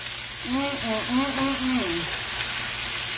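Potatoes and ramps fry in a pan while being stirred, giving a steady hiss and sizzle throughout, with a person talking briefly over it near the start.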